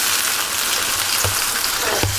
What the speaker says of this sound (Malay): Okay, kita masukkan cili bawang.